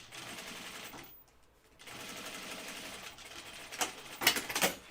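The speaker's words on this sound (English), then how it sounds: "I'm going to do 2 rows of stitching here because you really want to reinforce it." A sewing machine runs a couple of steady bursts of stitching along a jeans fly, reinforcing it with two rows. Its rapid mechanical chatter pauses briefly between rows and ends with a few louder clunks.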